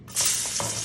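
Garlic hitting hot oil for pancit bihon, a bright steady sizzle that rises suddenly and keeps hissing close by, with faint stirring scrapes underneath.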